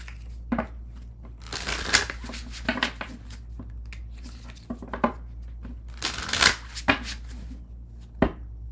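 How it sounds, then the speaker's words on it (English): Tarot cards being shuffled by hand, irregular bursts of riffling and soft slapping of cards, close and fairly quiet, with short pauses between flurries. "All right, I'm going to shuffle and we'll move on to Capricorn."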